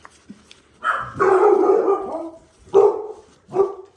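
Several dogs bark in short bursts, a few yips followed by a longer sustained barking run and two more sharp barks, close by with no talking.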